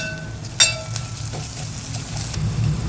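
Poha with onion, salt and turmeric is stirred in a pan: a steady close sizzle with scraping and rustling of the flattened rice, plus a sharp clink of a spoon against the pan near the start.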